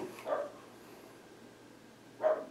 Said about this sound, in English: Excuse me while I help my dog.